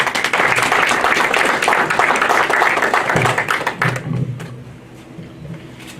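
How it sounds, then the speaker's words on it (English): An audience at a foundation's anniversary ceremony applauds to welcome a speaker to the stage, with dense clapping that holds strong for about four seconds, then thins and fades into a quieter room. "Please welcome him with a round of applause."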